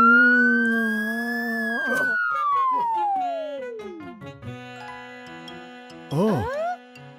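A cartoon police car siren sweeps up and then slides down in one long wail, followed by more tones and bursts of voices in an animated children's show.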